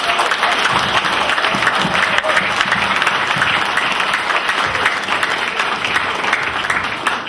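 A crowd at an Indonesian community Christmas celebration applauds loudly and steadily after an ambassador's keynote remarks, a dense, even wash of clapping that holds throughout.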